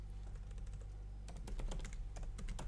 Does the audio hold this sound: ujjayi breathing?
no